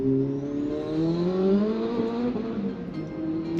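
A gasoline car engine revs as the vehicle passes by on a road in Tucson, Arizona, its pitch sweeping upward steadily with a continuous whir from start to end, moderately loud and close, with no talk.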